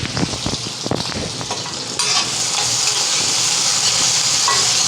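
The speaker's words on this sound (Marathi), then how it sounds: "आता त्याच्यामध्ये मी कांदा घालते। कांदा आपल्याला परतून घ्यायचा चांगला।" Onion sautéed in a hot pan over a high flame for a radish vegetable dish, quick clattering stirs and scrapes at first, then a loud, steady close sizzle and hiss that keeps building, with no talking.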